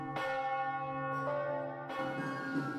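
Bells of Barcelona cathedral, rung by hand, sound in a few loud, overlapping strikes with long, rich ringing tones that sustain and layer between each new stroke, alone without voices.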